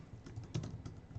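Brief burst of typing on a computer keyboard, several quick keystrokes clicking in an irregular rhythm at low level during a live stargazing session, with no talk over it.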